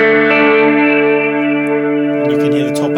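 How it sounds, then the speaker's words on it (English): An electric guitar chord rings out through an Ibanez TS Mini-era reverb pedal with the tone control turned all the way up, sustaining as a bright, washy decay before fading into fresh picking. "you can hear the top end back in on the reverb."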